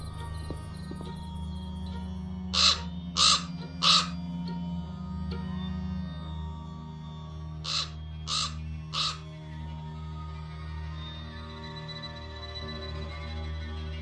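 A raven in the Black Mirror 2 video game caws in two bursts of three harsh calls, loud and close, over a steady low ambient hum with no talking.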